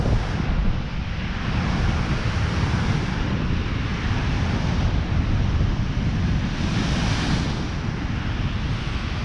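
Sea waves wash up a sandy beach at El Cotillo, a steady, loud broadband rush of surf with wind noise throughout and a slight swell near the end, without speech.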